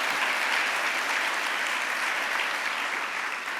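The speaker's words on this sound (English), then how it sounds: "Let's give Kenley another round of applause." A crowd at the 2022 San Antonio Business Hall of Fame awards event applauds loudly and continuously for nearly four seconds, tapering slightly at the end.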